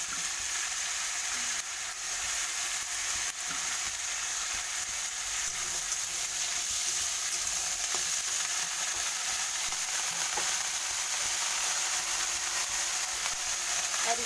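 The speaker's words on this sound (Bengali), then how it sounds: "বেগুনটাকে একটু নেড়ে দেবো, সেটাকে আমি একটু বেশি ভাজা করবো নি।" Eggplant and pumpkin pieces fry in a pan and are stirred now and then, giving a steady, loud oil sizzle that runs unbroken throughout.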